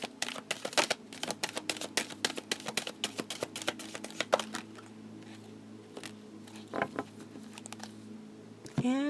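Herbal Healing oracle cards being shuffled by hand, a rapid run of crisp, close riffling slaps that thins toward the end before a final sharp flick.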